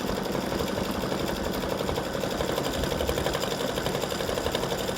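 A sewing machine runs steadily, its even mechanical whir and rapid needle ticking continuing without a break as it stitches a line.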